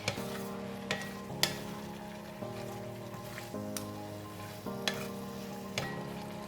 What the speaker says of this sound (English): Once we put in the basil leaf, we just give it a couple of stir and we can switch off the heat.